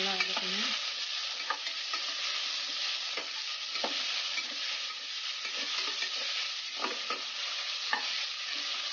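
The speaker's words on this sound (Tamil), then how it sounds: "நல்லா வதக்கணும்." Ingredients for Tamil coconut milk rice sautéing in a pan, a steady broadband sizzle with soft scrapes of a spoon stirring now and then, close and even, no voices.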